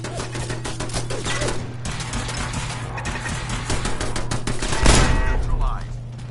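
Rapid bursts of automated turret gunfire in the video game Fallout 4, loud and sustained, with a low steady hum beneath and a sharper burst near the end.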